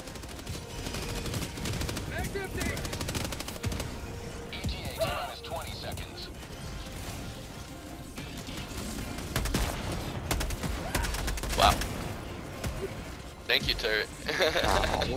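Automated turret in the Helldivers-style Automaton civilian escort mission firing rapid automatic bursts, loud and sustained through the clip amid other battle noise and occasional voices.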